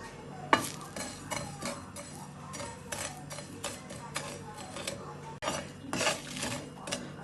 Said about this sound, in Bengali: শুকনো লঙ্কা আর কালো জিরেটা ভাজা হয়ে গেছে